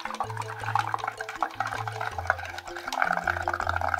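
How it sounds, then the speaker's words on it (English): Bubbling and gurgling as breath is blown through a straw into a dish soap and water mixture, continuous and close with a low, steady hum beneath, rising slightly toward the end. "I'm gonna take my deep breath and I'm gonna blow bubbles again."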